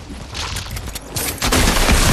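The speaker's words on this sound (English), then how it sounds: "I want to shotgun this guy." Shotgun blasts in Fortnite, a few loud booming shots that grow heavier toward the end, with no voices over them.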